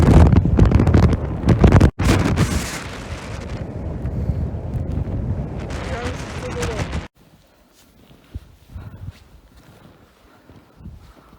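Strong wind roars across a snow-covered winter mountain, Śnieżnik, with loud buffeting gusts hitting the microphone for several seconds, then dropping abruptly to a quiet, faintly breezy background with scattered small noises.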